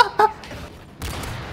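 An anti-materiel sniper rifle fires in the shooter game Call of Duty: Modern Warfare 3, a sharp crack followed by a second heavier blast with a rumbling tail.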